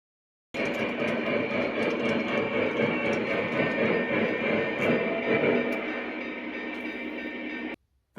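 An O gauge Big Boy model locomotive runs on a home layout hauling reefer cars, a steady close mechanical whir and rumble lasting several seconds that eases slightly before cutting off abruptly.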